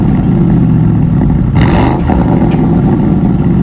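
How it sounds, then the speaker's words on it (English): A Porsche Cayenne GTS Coupé V8 exhaust rumbles deeply, loudly and close, swelling briefly in a short rev before settling back to a heavy idle. "For starters, you've got an exhaust that sounds like this."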